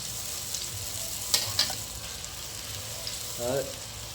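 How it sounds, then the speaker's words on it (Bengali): Sliced onions for biryani beresta fry in oil with a steady close sizzle, punctuated by a couple of sharp spatula scrapes against the pan. "এইভাবে বেরেস্তাটাকে ভেজে নেব"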